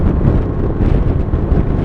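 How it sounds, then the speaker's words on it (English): Wind buffets the microphone in a loud, steady rumble with gusty swells, outdoors on an open ride through Yorkshire near wind turbines, with no voices. "The wind's a bit blowy when it catches you."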